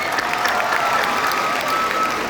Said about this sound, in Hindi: तो जोर से बजाओ तालियां